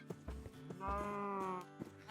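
Minecraft sheep bleat in a game, a short wavering baa with a nasal harmonic tone, heard once clearly in the middle with soft thumps and low game noise around it.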